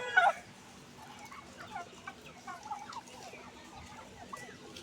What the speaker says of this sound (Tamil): இதெல்லாம் ஃபுல்லாக வான்கோழி தான்.